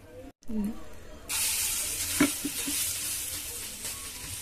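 Bottle gourd rotti roasts on a hot pan, a steady close sizzle and hiss that swells partway through, with a few soft clicks of handling underneath.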